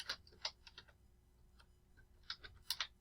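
Typing a name into a spreadsheet cell on a computer keyboard, quick light keystrokes in two short bursts with a brief pause between, close but fairly quiet.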